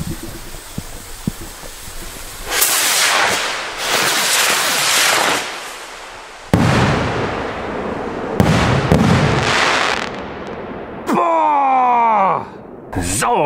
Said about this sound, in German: Das sind mal echt große Raketen, du.